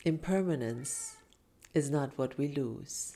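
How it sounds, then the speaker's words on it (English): A pet cat meows briefly, with short high calls slipping in between and after a person's calm spoken sentence, close to the microphone in a quiet room. "that's my cat talking to me"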